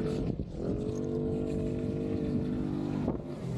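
A motor engine drones steadily nearby on the Ilocos sand dunes, with a rough, rumbling tone, fairly faint, with some wind buffeting.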